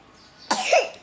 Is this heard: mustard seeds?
no